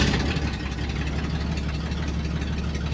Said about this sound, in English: It's a little loud because of the exhaust.